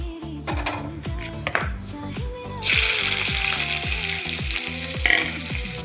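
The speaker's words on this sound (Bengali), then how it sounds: "পেঁয়াজ কুচি, লঙ্কা কুচি, রসুন কুচি ভাজা হয়ে গেছে।" Finely chopped onion, green chilli and garlic sizzle steadily in hot oil for a dried pointed gourd paste, the frying loud and close with stirring clatter over faint background music.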